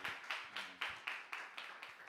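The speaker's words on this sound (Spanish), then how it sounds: "Démosle un aplauso al Señor." A church congregation claps together during an afternoon service, a faint, steady run of hand claps at an even pace.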